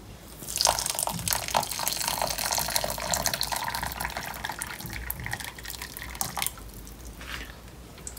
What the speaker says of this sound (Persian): یک لیوان آب داشتیم که بهش اضافه میکنم من آب رو جوشوندم